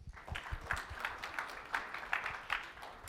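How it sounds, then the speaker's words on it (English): Scattered applause from a conference audience welcoming a speaker to the stage, fairly faint and thin, with individual claps audible in an uneven rhythm. "Please have a round of applause to welcome Rhonda to the stage"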